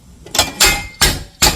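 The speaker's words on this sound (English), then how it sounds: "force it a little bit with a hammer." Four sharp metallic hammer strikes in an uneven rhythm, close and loud, as a skateboard pad is forced down onto its mounting bolts during assembly.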